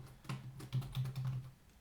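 Computer keyboard typing, a quiet run of soft key clicks in irregular short bursts, close and alone with no voices.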